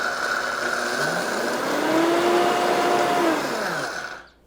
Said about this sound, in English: This is a high-speed blender.